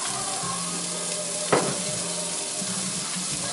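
Ground turkey burger sizzles and crackles steadily in a hot pan, with one brief louder scrape or clatter partway through.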